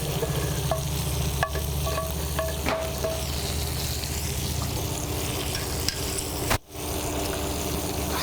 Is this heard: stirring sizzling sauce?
yes